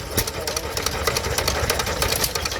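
Brief steady running of a stationary engine at a Llandudno Victorian show, a continuous close mechanical chug with rapid rhythmic clatter and no clear speech.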